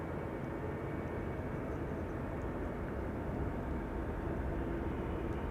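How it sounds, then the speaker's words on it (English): A United airliner in Star Alliance livery arriving at Amsterdam Schiphol, a steady, distant broadband engine rumble holding evenly throughout with no voices over it. "No, United in the Star Alliance livery arriving"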